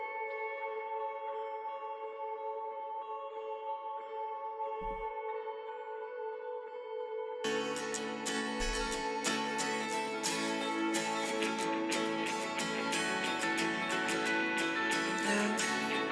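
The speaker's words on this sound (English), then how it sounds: "And then I added a second pad just to make this," A song's bridge filled out with a second synth pad: sustained layered chords that swell into a much fuller, brighter mix partway through, steady and loud with no voices.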